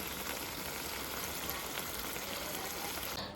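Meat fries in the oil it has released, a close, steady, dense sizzle that crackles evenly throughout with no talk.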